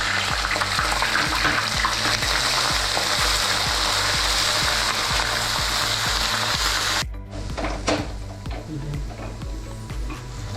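Ginger-garlic paste sizzles steadily in a hot pan with green chillies, a dense, bright frying hiss that cuts off abruptly near the end, leaving quieter kitchen sounds over a low, regular thumping pulse.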